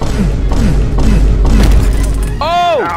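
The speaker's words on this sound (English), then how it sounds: "he's throwing nades" Grenades go off in quick succession during a Halo Infinite multiplayer match, several loud, close booming thuds under excited voices of players talking over one another.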